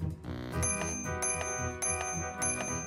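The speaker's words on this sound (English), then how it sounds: "Nice, bicycle bell you got there, kid." Bicycle bell in the adventure game Day of the Tentacle Remastered, rung repeatedly in quick metallic dings over a short tinkling melody, moderately loud with no voices.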